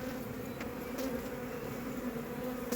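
Honeybees bringing pollen to the hive give a steady, close buzzing drone with a few louder passes from individual bees, no talking.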